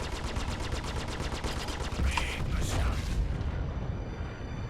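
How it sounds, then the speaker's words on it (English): Rapid spaceship gunfire in Star Citizen, a fast even stream of shots rattling for several seconds under a loud, rumbling space-combat background, then fading to a steady hum. "Dang, somebody's shooting at me."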